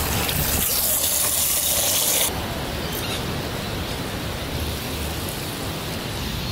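Water gushes steadily from a tap into a pot at a shower block, a loud broadband rush that drops slightly in level partway through and then runs on evenly, with no talking.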